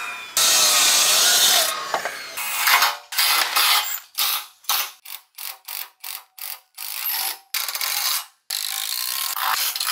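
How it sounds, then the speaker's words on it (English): A glulam wood beam is sawn to length in a run of rhythmic, rasping strokes that start as a long continuous rub and then break into quicker, evenly spaced bursts, loud and close, with no voices. "I'll flip it over and then I'll cut the pieces off, and then the glulam will be cut to length"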